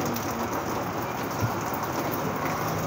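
Steady rain falls outdoors, making a dense, even hiss that holds at a constant level with no pauses. No voices are heard.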